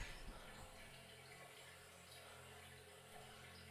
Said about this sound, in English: That sounds like a tap. Dirty water.